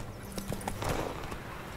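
Horse hooves clip-clopping in The Witcher 3 video game, a few quiet hoof thuds over a brief stretch against a muffled background.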